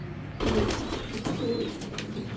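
A racing pigeon hen is let loose close by, giving soft cooing and faint wing movement against steady low background noise, with no talking.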